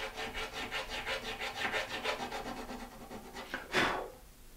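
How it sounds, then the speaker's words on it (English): Small hand files cut string notches into a bone nut for a handmade classical guitar, a close, quiet rasping in steady back-and-forth strokes, ending with one brighter stroke. "Each of these files that I'm cutting notches on the nut are special size"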